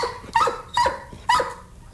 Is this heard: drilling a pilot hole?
no